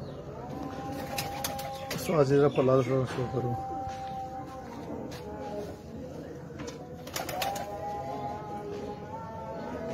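Sialkoti pigeons give a rolling, throaty coo in one clear burst near the start, with further soft bird sounds later, while someone talks over the scene.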